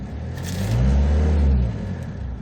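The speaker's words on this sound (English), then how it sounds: "Acceleration is going very smooth." A Hyundai Porter truck accelerates, its mid-pitched engine rising in a strong, steady surge that peaks then eases back, heard close and alone without talking.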